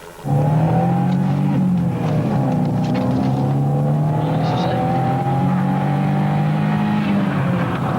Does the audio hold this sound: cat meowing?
no